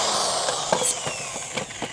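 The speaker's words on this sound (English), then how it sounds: "This is one of the DeWalt hammer drills right here." A DeWalt hammer drill runs on lithium battery power, giving a loud, steady motorized whine with a high-pitched tone throughout and a few small fluctuations in load.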